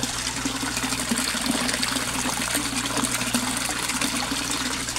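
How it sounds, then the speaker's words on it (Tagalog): A powerful aerator churns water in a koi fish pond, producing a steady, dense bubbling and gushing wash with a constant low hum beneath, continuous and close throughout. "Dahil sa sobra ng lakas niya, ang daming bubbles na produce niya or na-create niya."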